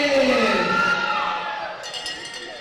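Crowd at a varsity boys volleyball championship game cheering and shouting loudly at first, then the noise fades gradually over a couple of seconds, with a few brief clinks near the end.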